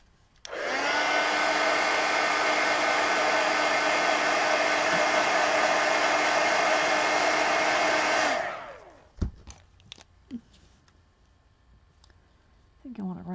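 A hair dryer blasts steadily at close range for about eight seconds, drying wet paint on a small art card, then cuts off, followed by faint clicks and handling noises.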